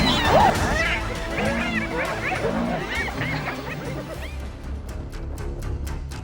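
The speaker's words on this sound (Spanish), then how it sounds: "una jauría de perros salvajes observa atentamente" Pack of African wild dogs in the Botswana wilderness giving repeated yelping, chirping calls with whimpers and barks, fairly close and layered, over a steady background, with some overlapping voice-like sounds early on.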